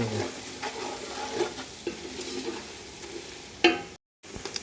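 Spices with salt and chilli being stir-fried in a pan for biryani, close sizzling with repeated scraping stirs and a sharp clatter near the end, followed by a brief break in sound.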